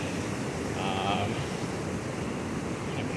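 Pacific Ocean surf breaking on a narrow beach beside a seaside taco spot, a dense continuous wash of waves and wind rumble, steady and broad with a faint brief tone in the middle.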